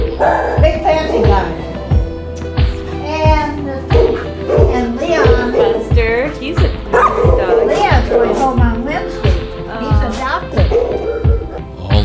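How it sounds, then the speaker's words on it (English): A big Labradoodle barks in quick repeated yips and woofs, with a steady rhythmic pulse throughout and voices mixed in around the dog. "Labradoodle. Big fancy guy."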